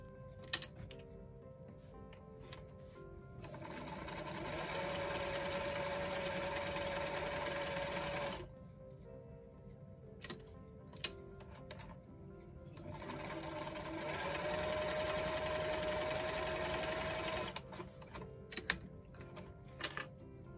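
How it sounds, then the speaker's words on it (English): A sewing machine runs in two steady bursts, top stitching the sleeve edge of a doll top. Each run is close and fairly quiet, and a few small clicks and handling noises fill the pauses between them. "Now all we're going to do is top stitch that sleeve edge."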